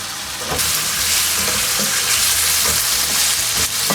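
Potatoes frying in a pan with garlic ginger paste over medium flame, a loud steady sizzle with occasional scraping stirs, close and uninterrupted.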